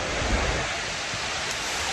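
A river flows right beside a campsite in Mexico's sugar cane country, heard as a steady, broad rushing wash with no breaks. The sound is fairly loud and close, with no talking.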